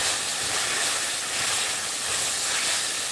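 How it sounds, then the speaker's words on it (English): Onions frying in a pan for a home cooking session give off a steady, even sizzling hiss that runs for the whole stretch at a moderate, close level, with no talk over it. "I'm just trying to get the onions a little translucent here."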